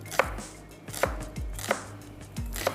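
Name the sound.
chopping a medium-sized onion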